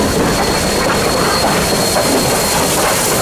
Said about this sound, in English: the diesels took over and pulled the train back eastbound